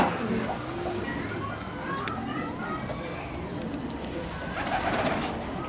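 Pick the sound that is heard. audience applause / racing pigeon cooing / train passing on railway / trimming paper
racing pigeon cooing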